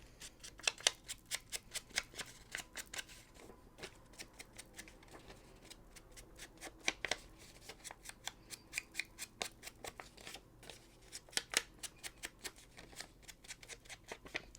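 Brown paper bag being distressed for a junk journal, with repeated sharp crinkling scrapes and rubs in an irregular steady rhythm, close and fairly quiet, with no voice.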